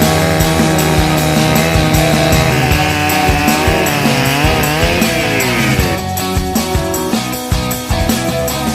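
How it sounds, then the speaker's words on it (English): A chainsaw cuts through a fallen tree at a remote lakeside fishing camp in Ontario, Canada, its engine running loud and close throughout, the pitch rising and dropping as it bites into the wood. "They send you with a chainsaw, and so we're going to get rid of this problem right now."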